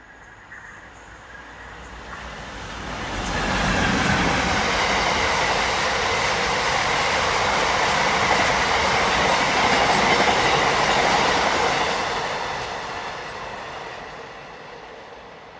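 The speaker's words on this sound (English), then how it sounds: "Oh, that's a freight." A freight train rolls past on the South Western Main Line at Fleet, its roar swelling over a few seconds, holding steady with rhythmic wheel clatter, then slowly fading as the wagons pull away.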